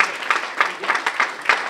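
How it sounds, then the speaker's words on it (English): An audience at a Student Research Day keynote event claps in a brief round, the applause pulsing in uneven bursts at moderate loudness. "Let's give him a round of applause."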